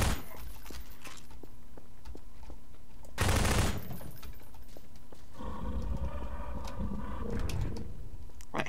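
A turret machine gun in Garry's Mod Life Source lets off a short, loud burst of fire midway, set against quieter rhythmic tapping and background game noise, with a rumbling drone afterward.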